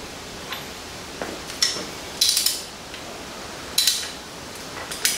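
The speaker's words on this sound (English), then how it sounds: "I'm going to take our torque wrench, our very big torque wrench." Large torque wrench tightening front brake caliper bolts to 162 ft-lb on a C7 Corvette Stingray Z51, giving a few sharp scattered ratcheting clicks with quiet gaps, close by and moderately loud.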